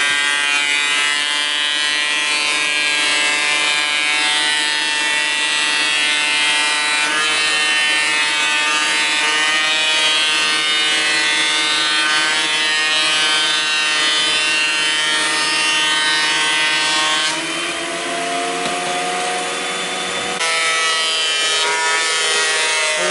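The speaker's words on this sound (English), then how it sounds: "The way he's turning a little bit at a time is what works best on this planer." A cheap benchtop planer runs steadily on lumber for wainscoting, giving a loud, continuous high-pitched whine and rasp. The tone shifts near the end as a board feeds through.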